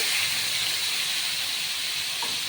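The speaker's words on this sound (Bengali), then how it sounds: "আমি প্রথমে দেবো আগে এই পেঁয়াজ বাটা" Onion paste hitting hot oil for paneer butter masala, a dense continuous hiss and sizzle held at an even level throughout, with no voices.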